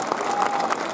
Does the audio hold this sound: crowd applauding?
yes